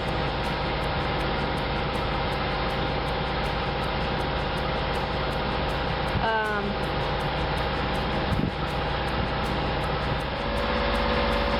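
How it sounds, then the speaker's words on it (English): The engine of a sailboat under way runs as a continuous steady drone with broadband water and wind noise, loud and constant throughout with only brief minor disturbances. "since our motor is on"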